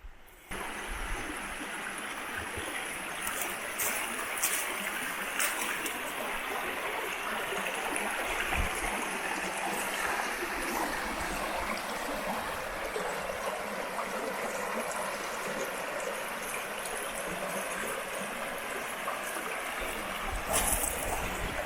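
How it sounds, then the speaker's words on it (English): Water rushes and burbles steadily over rocks in a nearby creek on the Buckeye-Caney Creek Loop, Ouachita National Forest, a constant, soft hiss with no voices. "You walk right alongside the creek."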